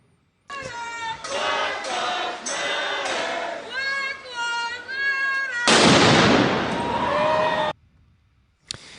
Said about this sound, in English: I'll play it one more time so you can see how big that explosion was